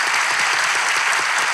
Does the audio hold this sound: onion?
no